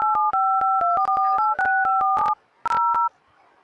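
A telephone sends a fast run of dialing tones, each a short steady beep, followed by a pause and two more tones. No one speaks.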